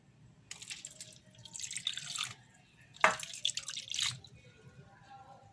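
Water runs and splashes in two short bursts, poured into a cooking pot with fish and garlic, fairly close, with quiet background hum.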